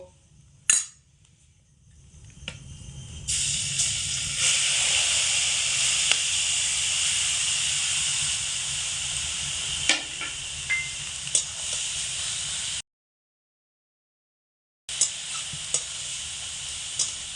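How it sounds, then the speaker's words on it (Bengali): Grated carrots sizzle steadily in a hot pan over medium heat for carrot laddu, with occasional clicks and scrapes of stirring and a brief silent break. "মিডিয়াম আঁচে রেখে গাজরগুলোকে খুব ভালো করে ভাজা ভাজা করে নেবো"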